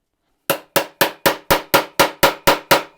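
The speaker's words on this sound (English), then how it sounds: "It's such a good hammer." A favourite hammer strikes a workpiece ten times in a steady, even rhythm during a DIY build, each blow sharp, loud and close with a short ringing decay.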